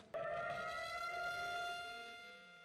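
A commemorative siren in Israel sounds before silent protesters, a sustained harmonic wail that starts abruptly, holds steady and then slowly fades.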